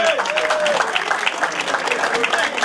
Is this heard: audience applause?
yes